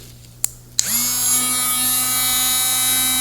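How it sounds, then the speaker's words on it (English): Two sharp clicks, then a small rotary power tool spins up into a loud, steady high whine, grinding hobby sword jewels flat close by without pause. "I'm just going to go with the power tool"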